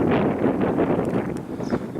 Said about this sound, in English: I apologize for the wind if the camera is picking up on the wind